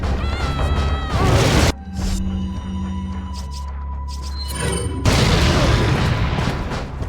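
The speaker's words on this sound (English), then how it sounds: "So I'll start using my grenades here on these big goons." Grenade explosions in Resident Evil 4 (2005) on the island, two loud booming blasts with heavy low rumble, separated by a quieter stretch of ringing tones and clanks, the second blast sustaining to the end.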